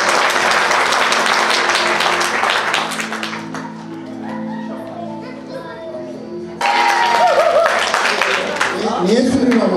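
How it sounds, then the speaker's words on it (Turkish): Audience applause in a hall at a Christian water baptism gathering in Duisburg, a dense burst of clapping at the start that dies down, then returns loudly after a quieter stretch, with voices and some tonal background sound underneath. "Alkış."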